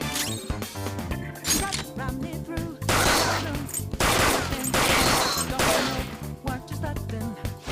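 Rapid gunfire from a gun in the video game Persona 5 Royal, dense bursts of shots layered over loud game music, with heavier crashing volleys in the middle stretch.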